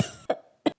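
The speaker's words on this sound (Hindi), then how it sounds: "मम्मा, कुकू भैया की खांसी अब कैसे ठीक होगी?" A cartoon character coughs in a short cluster of three quick, dry coughs with brief pauses between them, close and clear with no other sound.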